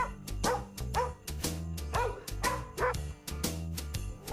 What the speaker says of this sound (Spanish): los lomitos que han sido rescatados del metro aquí en la Ciudad de México